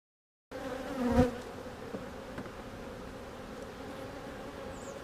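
Honeybees buzz continuously around an open hive during an early March inspection, a steady close drone with one louder swell as a bee passes near.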